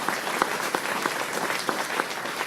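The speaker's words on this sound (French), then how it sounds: "Franchement, il faut les applaudir" Audience at a lecture on aromatic and medicinal plants applauds the botanists, with steady, dense clapping filling the room throughout and a few sharper individual claps standing out.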